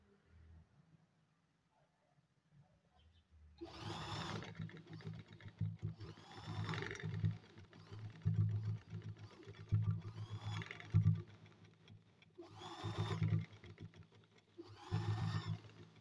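A sewing machine stitching a fabric sleeve strip runs in several short, whirring bursts separated by brief pauses in a quiet room.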